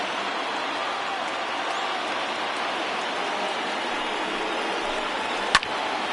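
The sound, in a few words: baseball stadium crowd cheering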